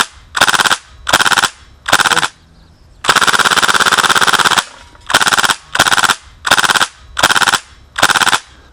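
An airsoft gun on an ANT CO2/HPA conversion kit firing full-auto bursts, loud and close, several short rapid bursts and one longer sustained burst separated by brief pauses.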